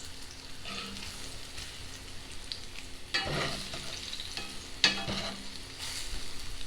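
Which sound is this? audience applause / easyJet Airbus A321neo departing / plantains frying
plantains frying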